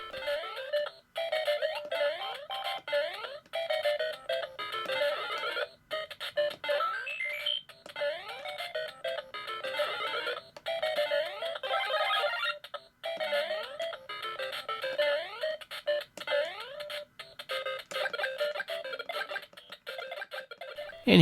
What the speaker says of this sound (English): let's go ahead and try some Super Mario Brothers out